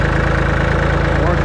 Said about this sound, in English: Take the old backhoe over, got some work to do with it for a little bit.